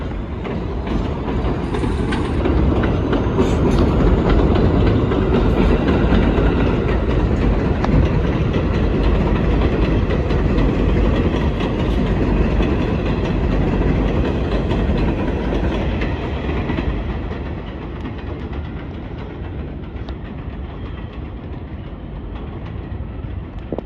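A New York City 6 subway train rumbles through Buhre Avenue station in the Bronx, its wheels clattering loudly and steadily along the track before the roar gradually eases toward the end.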